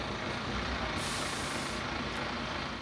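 Hop-on hop-off tour bus in Dublin, a loud steady engine rumble close up with a long hissing air brake release in the middle, no talk.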